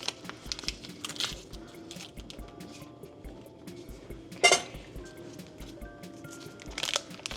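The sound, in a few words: butter being unwrapped and put into a saucepan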